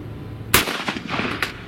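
A gun fires a single sharp shot into bags of Quikrete concrete mix outdoors, followed by a few fainter cracks and thuds as the report fades, with no voices.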